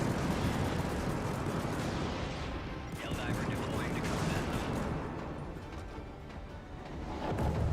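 Dense, continuous gunfire and explosions from the Helldivers 1 video game, a loud steady barrage of shots and blasts running throughout with no clear pauses.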